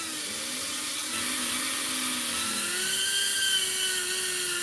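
Small motors on an Emax EZ drone whine at full throttle, a high buzzing drone that rises and shifts pitch, close and steady throughout, with no speech.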